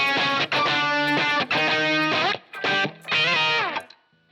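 A distorted electric guitar on the bridge pickup, through a Line 6 Helix preset, with a bright, biting tone plays sustained chords in several bursts, ringing out and fading at the end.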